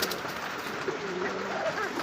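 Pigeons coo softly nearby at a pigeon seller's, low throaty calls rising and falling over a quiet background.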